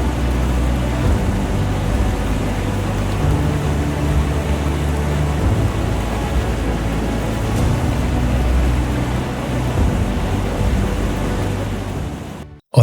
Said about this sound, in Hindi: मैं चला चेरापूंजी के सबसे फेमस वाटरफॉल को देखने, जिसका नाम है सेवन सिस्टर वाटरफॉल्स